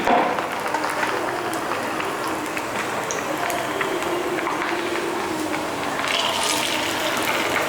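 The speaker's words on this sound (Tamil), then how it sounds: "எண்ணெய் லைட்டாக சூடானதும் நம்ம மசாலா தடவி வச்சுருக்க கோவா நெத்தலியை எடுத்து இதில் போடலாம்." Masala-coated Kova anchovies go into hot oil and fry with a continuous, even sizzle that stays fairly loud and close throughout.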